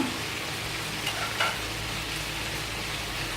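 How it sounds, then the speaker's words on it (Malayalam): Butter melting in a heated pan, a steady close crackling sizzle with a dense hiss throughout and a couple of brief louder pops early on. "നമ്മളൊരു പാന് ചൂടാക്കിയിട്ട് അതിലേക്ക് ബട്ടർ ഇട്ട് കൊടുക്കുക"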